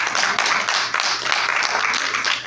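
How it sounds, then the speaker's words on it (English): A church congregation claps their hands together in a steady, dense rhythm that fills the room continuously, loud and close with no pause. "Clap your hands for the word."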